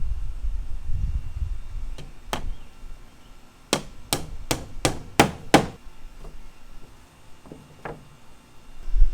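Galvanized nails hammered into wooden fence pickets during an outdoor fence repair, a quick run of about six sharp ringing strikes after a few scattered taps, with low outdoor rumble between.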